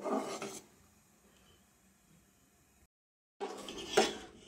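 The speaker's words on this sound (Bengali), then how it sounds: "এটা আমি অনবরত এবার নাড়বো যাতে চালটা নিচে লেগে না যায়।" Metal spoon scraping and clinking around a pot of rice pudding (payesh) while it is stirred continuously so the rice doesn't stick, with scraping bursts at the start and end, a quiet stretch between and a brief silent gap.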